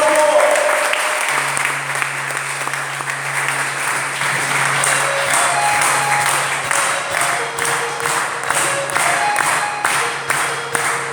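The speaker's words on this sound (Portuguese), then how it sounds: "Vamos aplaudir bem forte o nome do Senhor Jesus." A church congregation applauding during a service, steady loud clapping from many hands continuing throughout, with sustained organ or keyboard tones and some voices underneath.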